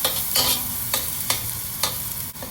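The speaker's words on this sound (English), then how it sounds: "Add the prawns. Give it a stir." Prawns and garlic stir-fried in a pan give off a steady, close sizzle, with a few scraping strokes of a spatula at regular intervals and no voices.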